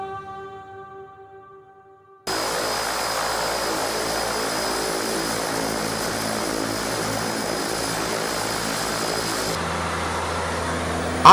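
A propeller airplane in flight over the Maldives gives off a steady, loud engine drone that starts abruptly and holds evenly, with the pitch shifting slightly near the end.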